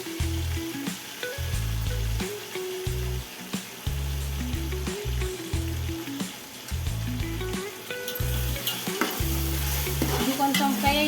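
Ginger garlic paste fries in a pan during biryani making, a constant close sizzle broken by repeated rhythmic scrapes and knocks of a spoon stirring it.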